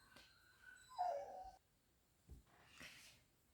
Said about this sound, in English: my puppy's crated and not happy about it